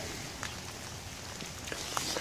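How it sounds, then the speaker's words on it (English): Heavy rain falls outdoors in a grove of trees. It makes a steady, dense hiss with scattered drop patters throughout, and no one speaks. "It's raining like crazy."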